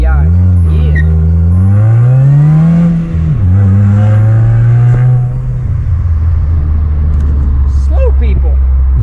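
A car engine drones loud and close from the cabin on a drive, its pitch rising and falling as it revs and shifts, with a brief dip midway.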